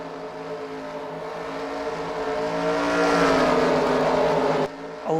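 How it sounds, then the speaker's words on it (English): Dirt-track race cars roar around Orange County Fair Speedway, a loud, sustained engine drone whose pitch climbs steadily as the pack accelerates, then dips briefly near the end. "Green flag is out. We are racing here at Orange County Fair Speedway on the dirt."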